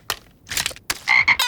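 A cartoon frog croaks in a few short, punchy bursts, close and clear, with brief gaps between them and no voices.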